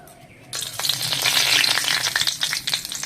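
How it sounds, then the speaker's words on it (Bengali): Three bay leaves drop into hot mustard oil in a wok and burst into a loud, steady sizzle that starts abruptly and crackles on without pause. "চচ্চড়িতে ফোড়ন দেওয়ার জন্য কড়ার মধ্যে সরষের তেল দিয়ে দেবো। ফোড়নের জন্য 3টে তেজপাতা নিয়েছি, দিয়ে দেবো।"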